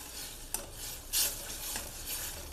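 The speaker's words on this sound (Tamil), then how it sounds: "இது 1 நிமிஷம் லேசாக வதங்கட்டும்." Ground green pepper and ginger paste stirred and sautéing in a pan, with a soft sizzle under scraping stirs and a few louder spatula strokes, no voices.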